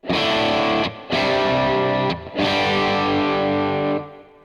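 Electric guitar runs through a Quad Cortex capture of an Earthquaker Devices Plumes overdrive pedal, giving a loud, sustained, distorted tone. Chords ring in three strummed phrases with short gaps between them.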